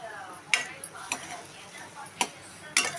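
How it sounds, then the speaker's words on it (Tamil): Cowpea stir-fry with grated coconut is stirred in a pan, a spatula scraping and clinking against the metal in a few sharp, separate strokes over a quiet background. "நல்லா தேங்காயை நல்லா கிண்டி விட்டுக்கோங்க."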